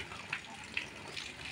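Water splashes and trickles steadily while flowers are watered outdoors, a soft, continuous pouring sound at moderate distance with a few brighter splashes.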